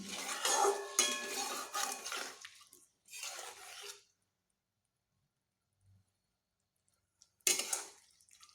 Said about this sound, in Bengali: মশলাটি দিয়ে এইভাবে নেড়ে নিচ্ছি